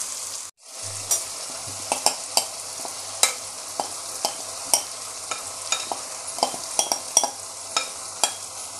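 Chicken frying on high flame while being stirred, a continuous sizzle punctuated by repeated sharp scrapes and clicks of the spoon against the pan, close and clear.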